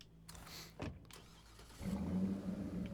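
A car engine cranks and turns over in a video game near an outpost, with a short whir and thump before it settles into a steady idle rumble.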